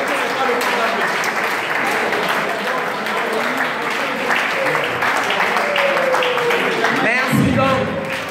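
Audience at a Togolese civil society charter adoption event breaks into loud sustained applause and cheering, a dense roar of clapping and voices filling the room throughout.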